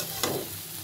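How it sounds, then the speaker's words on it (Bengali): Vegetable bhaji stir-fries in mutton fat in a pan, a soft continuous sizzle broken by one quick scrape of stirring near the start, heard up close with no talking. "আমি আরেকটু ভাজবো"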